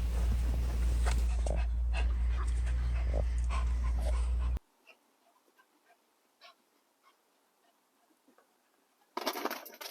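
A new dog pants close by with faint whimpers, under heavy rumbling noise for the first few seconds, then a quieter stretch with scattered soft sounds before a brief burst of noise at the end.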